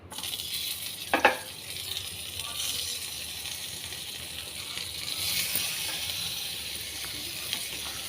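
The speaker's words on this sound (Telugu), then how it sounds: "ఇదిగో మసాలా పెట్టేసి ఇప్పుడు కొంచెం ఫ్రై చేస్తున్నాను." Gourd masala fries in a small amount of oil, giving a steady, soft hiss and sizzle throughout, with one brief metallic clink near the start and no talking.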